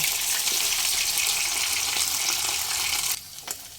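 Parshe fish fry in hot oil in a kadai at medium flame, giving a steady, loud, dense sizzle that runs without a break before dropping abruptly to a quieter crackle near the end.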